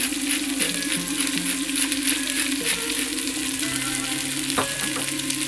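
Onions, potatoes and leeks fry in a pan for a Moroccan-style lamb tagine, giving a steady close crackling sizzle with occasional stirring scrapes and a brief clatter near the end.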